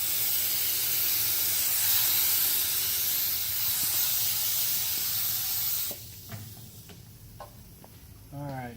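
Activator spray hissing onto floating water transfer printing film for several seconds, a steady, close aerosol rush that cuts off abruptly, leaving quieter water and handling sounds.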